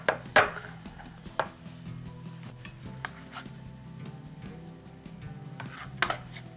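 A knife chops chocolate steadily on a cutting board in irregular strikes, crisp and close, with a faint low hum underneath.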